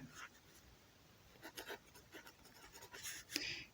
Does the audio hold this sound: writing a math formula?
yes